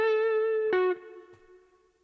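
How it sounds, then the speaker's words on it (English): Electric guitar note through an amp with effects, a sustained bright tone struck again briefly then fading into a trailing reverb tail, played alone in a blues style. "you might be able to hear the reverb of my amp trailing off"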